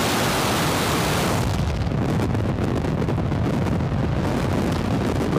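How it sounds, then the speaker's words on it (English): A SpaceX Falcon booster on its twentieth flight ignites and lifts off with the Worldview satellites, a loud, continuous, broad roar heard at a distance that deepens and rumbles steadily, with no talking. "7, 6, 5, 4, 3, 2, 1, ignition."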